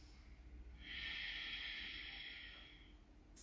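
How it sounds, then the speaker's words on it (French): An Ujjayi yoga breath exhaled through a constricted throat makes a steady, close, soft hissing rush lasting about two seconds before fading, with no talking. "Faites passer l'air derrière la gorge à chaque expiration, comme une petite contraction qui nous permet ici d'entendre comme un petit bruit."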